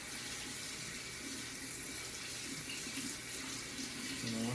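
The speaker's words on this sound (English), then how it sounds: "So we're going to wash the salt off." Water runs steadily from a kitchen faucet to rinse salt off cured salmon, a continuous, close splashing stream with no pauses.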